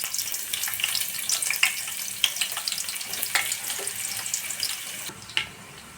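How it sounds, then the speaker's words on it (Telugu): Onions frying in hot oil in a home kitchen pan, a steady bright sizzle with scattered crackles and pops, close and continuous for several seconds without talk. "కర్రీకి కూడా ఆయిల్ హీట్ ఎక్కింది కాబట్టి ఆనియన్స్ అనేవి వేసేసుకున్నామండి."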